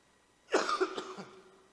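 A single short, dry cough, fairly faint, in an otherwise quiet room.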